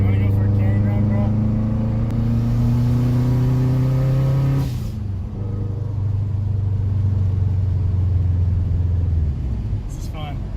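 Subaru WRX engine pulling hard from inside the car during a ride, a loud droning rumble that climbs in pitch, drops at a gear change, then rises again, with people talking over it.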